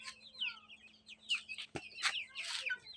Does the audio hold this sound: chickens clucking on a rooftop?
yes